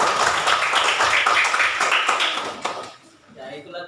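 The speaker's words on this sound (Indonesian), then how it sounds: "Tepuk tangan dulu." Children in a classroom clap together in a quick, lively burst of applause for about two and a half seconds, then it stops and a voice speaks.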